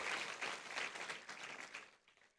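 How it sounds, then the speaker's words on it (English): Applause from an audience of guests at a Tele-Law regional workshop in Chennai, Tamil Nadu, a fairly faint, dense patter of clapping that holds steady and then thins out toward the end. "Please clap for both them"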